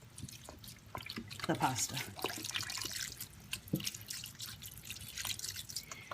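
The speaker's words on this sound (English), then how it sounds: "Now we're going to add stock to cover" Stock is poured over angel hair pasta in a pot, a close trickle and splash of liquid running under a speaking voice.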